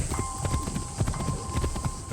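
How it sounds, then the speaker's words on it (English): Rapid clip-clop of hooves from the Sakura Fox mount in the Assassin's Creed Shadows video game, using horse hoof sounds: a quick, even galloping rhythm of light thuds, close and fairly quiet, with a faint tonal hum beneath. "It first had hoof sounds from the horse mounts"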